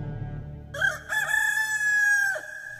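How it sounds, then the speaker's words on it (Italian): A rooster crows once, loud and close, in a long drawn-out call with a rising start and a sustained high tone that breaks off sharply, with no voices over it. "un gallo cantò"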